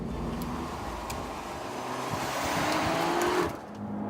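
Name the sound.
hot hatch car (Hyundai i30 N or Peugeot 308 GTi) driving a lap on a race track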